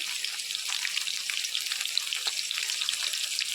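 Steady crackling sizzle of ginger and garlic frying in hot oil, a dense bright hiss with small pops throughout, close by and without talk.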